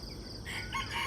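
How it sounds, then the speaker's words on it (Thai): A rooster crows faintly in the distance at dawn on a Thai farm, rising over a soft, steady background hiss. "ได้ยินเสียงไก่ขันไหมคะ"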